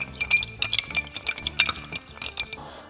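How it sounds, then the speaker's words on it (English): A whiskey Old Fashioned stirred over one large ice cube in a glass, giving a quick run of bright, close clinks as the spoon and ice knock against the glass walls. "Then I'm going to add a large cube of ice. I'm just going to give this a little stir to combine."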